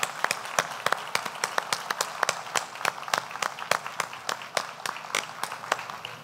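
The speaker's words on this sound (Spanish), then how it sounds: "Fuerte el aplauso," Clapping at a Family Values Award 2022 ceremony, with distinct sharp hand claps in a fairly regular rhythm over a softer wash of applause, moderately close.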